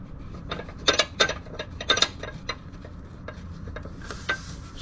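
Ratchet fitted with a 3/16 Allen socket tightening a screw on a Tesla frunk, giving quiet irregular clicks and ticks in short bursts, a few sharper clusters near the start and end, close by with no talking.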